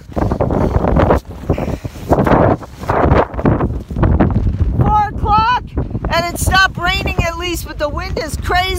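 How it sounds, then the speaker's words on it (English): Strong desert wind storm tearing across an exposed ridge, roaring and buffeting the microphone in loud continuous gusts, with someone talking over it in the second half. "But the wind is crazy, ripped at everything."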